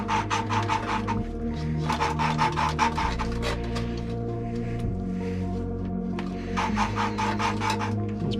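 An engine valve from a Ford Flathead V8 8BA being lapped against its seat, a gritty rasping grind in repeated back-and-forth bursts, close and steady with brief quieter pauses between strokes.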